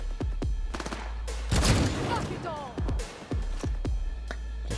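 Several sharp gunshots ring out in Cyberpunk 2077 during a firefight, with a burst of rapid fire in the middle and single reports spaced around it, while a person talks over the action.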